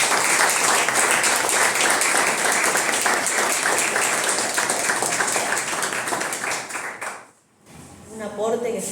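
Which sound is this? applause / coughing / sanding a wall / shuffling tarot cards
applause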